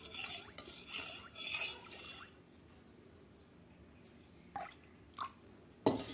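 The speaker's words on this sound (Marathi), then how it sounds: "हा जो घोळ तयार होतोय हलवताना" A spoon stirs a milk and curd mixture for homemade set curd, clinking and scraping against the bowl in quick bursts, then goes quiet before a few isolated taps and a final sharper knock.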